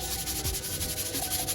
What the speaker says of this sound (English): now I'm gonna give this a light sand with 220